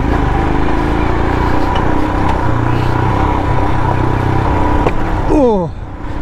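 Royal Enfield Himalayan motorcycle riding off-road, its engine a steady loud rumble with rattling over rough ground throughout, easing slightly near the end.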